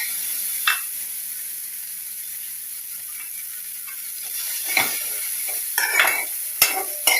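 Black chana with onion in a frying pan, a steady close hiss and sizzle broken by occasional scraping stirs of a spoon against the pan, no voices.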